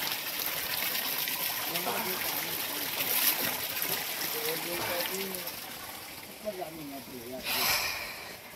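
Water flowing steadily where two streams meet beside a Buddhist temple, a constant rushing hiss with people talking over it throughout.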